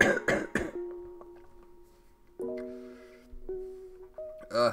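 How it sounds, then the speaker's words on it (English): A person with breathing trouble coughs in a few harsh bursts up close, then wheezing, whistling breaths with tonal rasps follow, and one more cough comes at the end. "Listen to this cough."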